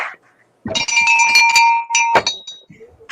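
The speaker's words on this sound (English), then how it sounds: "go ahead and ring that bell" A bell rung in celebration on a TV sports-betting show rings out with bright, sustained metallic tones for about a second and a half, loud and close, with voices briefly around it.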